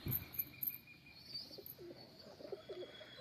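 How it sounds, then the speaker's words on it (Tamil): Several ordinary domestic pigeons coo softly in a loft, low throaty calls rising and falling over a quiet background, with a few faint high chirps at the start. "இங்கே கொண்ட புறா, சாதா புறா அப்படின்னு சொல்லி எல்லாமே சாதா புறாக்களை தான் வச்சுருக்கோம்"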